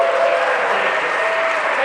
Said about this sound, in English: Let's have another round of applause if he's still in here.